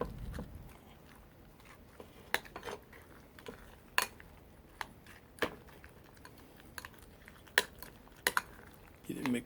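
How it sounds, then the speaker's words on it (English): A spoon stirs a tuna and onion mixture in a bowl, giving scattered sharp clinks and scrapes at irregular intervals over a quiet background. "Get it mixed up real good"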